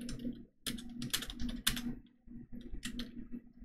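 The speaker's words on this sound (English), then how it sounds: "you can use a prompt and of course type in" Bursts of computer keyboard typing as a prompt is entered, clustered clicks in quick irregular runs with short pauses between, close and fairly clear, alone without talk.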